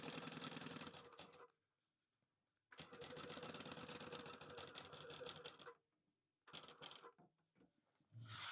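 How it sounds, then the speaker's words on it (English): A sewing machine stitches the three sides of a fabric bottle sling in close, loud mechanical bursts, running about a second, then three seconds, then two, separated by short quiet pauses. "So I'm sewing all 3 sides together."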